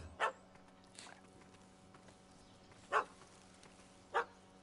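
A puppy in the game Witcher 3: Hearts of Stone barks at a cat stuck up a tree, giving three short, sharp yaps spaced a second or more apart over a quiet outdoor ambience.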